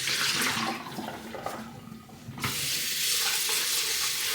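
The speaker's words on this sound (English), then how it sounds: "I'm gonna rinse it with cold water." An item is rinsed under a running cold-water tap, a steady bright splash that softens in the middle while the item is handled and then returns to a full, continuous flow.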